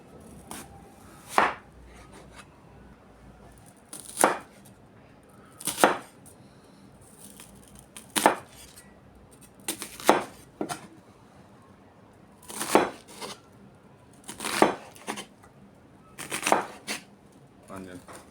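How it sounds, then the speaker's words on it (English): Garlic being chopped with a knife on a board, about a dozen distinct close chops coming singly and in quick pairs, spaced a second or two apart over quiet background. "I'm going to chop up half an onion. Oh, okay. Okay, that's garlic."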